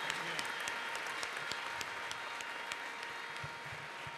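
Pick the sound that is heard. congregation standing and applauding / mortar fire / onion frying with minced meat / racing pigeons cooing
congregation standing and applauding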